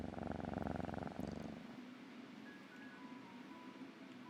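A streamer imitates a cat's purr with her voice, a loud rhythmic rolling rumble that stops abruptly, followed by quiet background with faint electronic tones.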